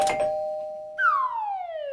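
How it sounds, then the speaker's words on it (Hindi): A doorbell chimes, a short first tone followed by a longer, ringing second tone that slowly fades. "डोरबेल बज रही है।"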